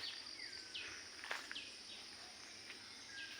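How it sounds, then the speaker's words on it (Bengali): Birds chirp faintly in short, repeated calls on a quiet rainy-season morning, near water-filled canals and wetland, distant and alone with no talk. "চারিদিকে পাখিদের কিচিরমিচির শব্দ।"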